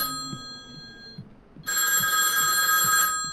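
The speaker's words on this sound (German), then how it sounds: "Jetzt müsste das Telefon dann gehen." In the horror game Hellseed, a telephone rings with one long electronic bell burst after a short quiet stretch, loud and close, while faint footsteps and room tone sit underneath.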